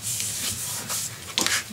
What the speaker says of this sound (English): Burnish your glue.